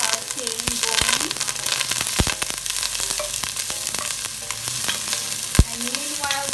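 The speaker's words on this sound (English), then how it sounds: "Get some sauteing going." Thyme sautéing in a hot pan for Jamaican pepper shrimp, a steady crackling sizzle with sharp pops and utensil clicks, with brief voice sounds over it.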